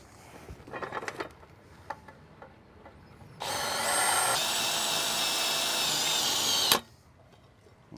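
A power drill whirs steadily for about three seconds, loud and close, while rigging a boat anchor, after some scattered clunks and taps, then cuts off abruptly.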